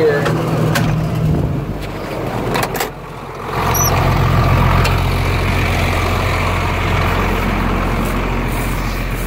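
A farm tractor with worn SCV hydraulic valves that lose pressure runs steadily outdoors during oat work, a constant low engine drone with a brief dip before resuming at full strength.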